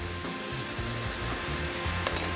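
Turmeric and spices sizzling loudly in a pan right after a small splash of water is added, a steady close crackling hiss with bubbling texture and no voices.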